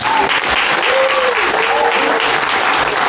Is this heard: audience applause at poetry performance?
yes